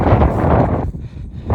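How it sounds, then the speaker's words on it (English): Strong wind buffets the microphone on a Scottish mountain during a winter climb, a loud roaring gust that drops briefly before surging again. "it's really windy"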